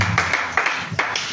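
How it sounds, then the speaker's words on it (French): Congregation clapping together at a prayer vigil service, a brief run of uneven hand claps with several sharper accents, close and fairly loud, no voices. "On acclame le Seigneur"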